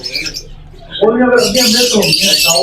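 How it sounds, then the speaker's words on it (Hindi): Zebra finches chirp in a busy bird shop, a dense mix of high, bright twittering calls that swells and carries on, with people talking over it. "ज़ेब्रा फिंच, ज़ेब्रा फिंच के बड़े पेयर"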